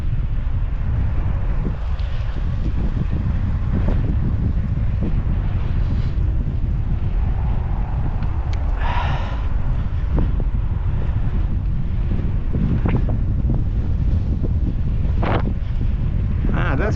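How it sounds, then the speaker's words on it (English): Strong wind buffeting the microphone while riding a single-speed bike along a trail in Calgary, a steady low roar under the whole ride, with scattered knocks and bumps from the bike and a speaking voice heard at times. "The wind is coming from the west"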